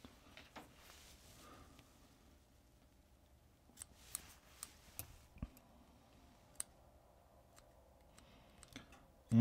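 Scissors trim craft fur on a Clouser fly while it is being tied, producing faint, sparse snips and clicks at irregular intervals in a quiet room, with a louder knock right at the end.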